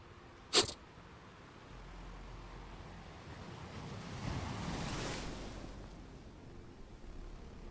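Ocean waves from an Unreal Engine 5 Fluid Flux scene wash in as a low, continuous surf rumble that swells midway, with wind noise and a single sharp click near the start.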